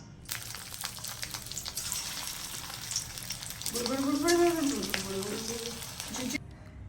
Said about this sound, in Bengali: চিকেন পাকোড়া দেখো চিকেন ম্যারিনেট হয়ে গেছে তেল গরম হয়ে গেছে